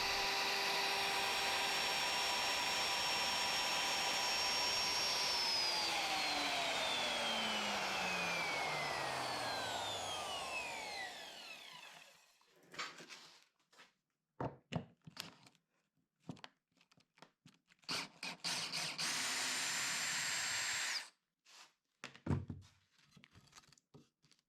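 A router cutting out aluminum sheet parts, first a loud sustained whine whose pitch sweeps down as the spindle winds off, then bursts of scraping and clattering with short gaps.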